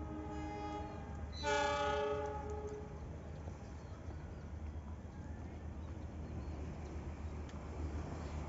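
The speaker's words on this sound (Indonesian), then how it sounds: "Ini nampaknya loko seruntulan nanti yang akan membawa BBM" Locomotive passing with a blast of its horn: a short, fairly faint horn call over the steady rumble of the train, which continues rolling by in the distance.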